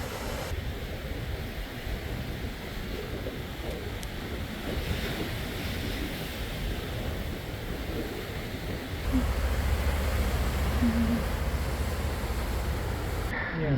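Ocean surf surging at Thunder Hole, a rocky coastal inlet, roars as a continuous broad wash with wind buffeting the microphone, swelling louder in the final seconds; no one speaks.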